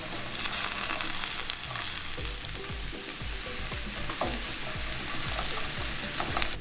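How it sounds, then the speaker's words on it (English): Eggs frying over easy in a pan, with a loud continuous sizzle and crackle close up, broken by spatula scrapes and taps against the pan, and no talking. "I'm also going to go ahead and make some over easy eggs."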